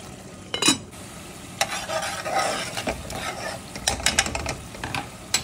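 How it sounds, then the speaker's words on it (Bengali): A spoon stirs spice paste with a splash of water in a pan for a fish curry, scraping in uneven bursts over a soft, steady sizzle, with no one speaking. "একটু পানি দিয়ে না আবার নাড়াচাড়া করে নিচ্ছি।"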